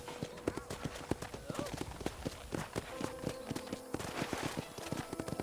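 Horse hooves clip-clopping at a steady trot on a ranch in Red Dead Redemption, continuous and fairly close, with a brief whinny and voices talking over the hoofbeats.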